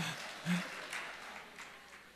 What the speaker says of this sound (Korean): 계속 박수 칩니다